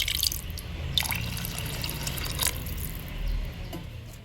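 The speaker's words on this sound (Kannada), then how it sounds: "ಈಗ ಇದಕ್ಕೆ ಎಷ್ಟು ಆಗುತ್ತೆ ಅಷ್ಟು ನೀರನ್ನು ಹಾಕೊಳ್ಳೋಣ." Water poured into a pressure cooker holding soaked rice for soppu pulav: a close, steady trickle with a few splashy drips, unaccompanied by talk.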